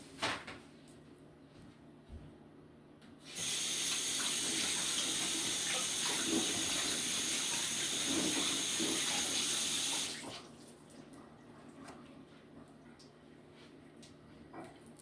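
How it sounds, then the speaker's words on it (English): A kitchen tap gushes into a sink for about seven seconds while hands are washed, a steady close rush of water starting and stopping abruptly, with faint handling clatter before and after. "Let me just wash my hands."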